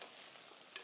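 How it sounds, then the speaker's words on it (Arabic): Vegetables sizzle steadily in a hot pan over a close, continuous hiss with a few brief pops of stirring, during preparation of a chicken and vegetable rice dish. "انا رح اقلي الخضرة"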